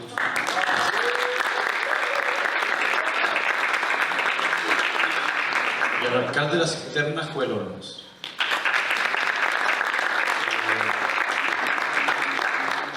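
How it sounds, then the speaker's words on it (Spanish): An audience at a progressive municipal politics panel breaks into dense, sustained applause that fills the room, briefly dipping while a presenter speaks over it, then surging back at full strength. "Un aplauso."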